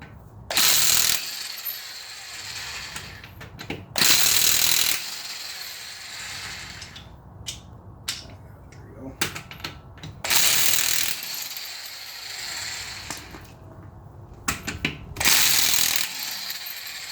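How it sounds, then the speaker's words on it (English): A ratchet with a 21mm socket loosens the front wheel lug nuts on an Infiniti JX35/QX60, making several bursts of rapid clicking ratcheting separated by short pauses and light metallic handling, close and moderately loud. "we're just going to take our 21mm socket now, and we're going to go ahead and remove our lug nuts"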